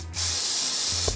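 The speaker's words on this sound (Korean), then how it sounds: "손으로 이렇게 눌러놓고 여기 위쪽만 스프레이를" Hair spray from an aerosol can hisses in one steady, close burst of about a second onto the top of the hair, held down by hand above the bangs, with quiet before and after.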